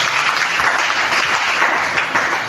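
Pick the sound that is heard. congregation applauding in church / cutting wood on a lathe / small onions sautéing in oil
congregation applauding in church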